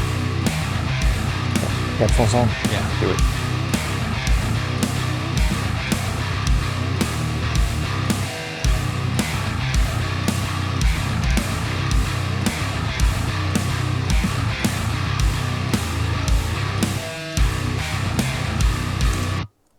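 Heavy, chugging djent bass riffs from a bass plugin play loud and dense with steady rhythmic attacks throughout, a few brief spoken words near the start.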